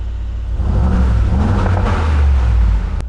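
A Brabus 700 built on a Mercedes G63 revs hard and holds a deep, throaty roar for about three seconds through a sport exhaust, with a rumbling low exhaust note, close by.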